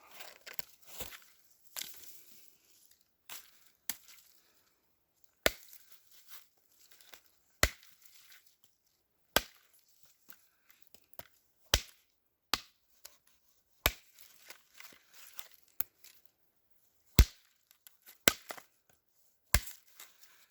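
Sharp, irregular chopping strikes of a kukri blade biting into pitchy wood, close up, with crackling and splintering between blows and no talking.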